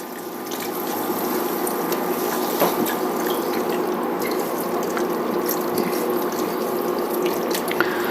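Chicken stock pours steadily into a soup pot of broccoli cheddar soup on the stove, a continuous close splashing gurgle with small clicks and clinks, fairly loud and without talk.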